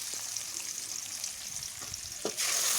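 Ground masala hitting hot oil in a pan for a village-style fish gravy (paarai meen kuzhambu), a soft steady sizzle that suddenly swells into a louder, bright frying hiss near the end.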